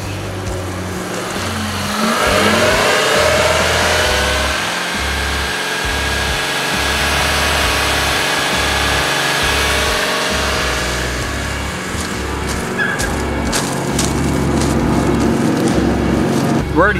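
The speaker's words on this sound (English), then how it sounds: "we might blow the motor on this thing revving it up to that high" A car engine revs hard and steadily at high RPM, rigged to pump exhaust fumes into a makeshift smoker for a turkey, a loud sustained mechanical roar close by with slight pitch wavering throughout.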